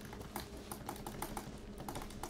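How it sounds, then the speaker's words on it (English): A computer keyboard's shift key is pressed over and over, giving a run of sharp, close plastic key clicks at an uneven typing rhythm. "you could probably hear me hitting the shift key"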